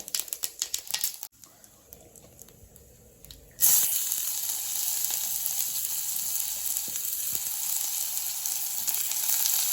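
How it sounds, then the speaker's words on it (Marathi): Onion and cumin seeds go into hot mustard oil for a healthy weight-loss breakfast. After a few seconds of quiet clatter, a loud, steady sizzle starts and holds close, with the occasional small crackle. "आता आपण जिरं टाकायचं थोडंसं आता टाकायचा कांदा"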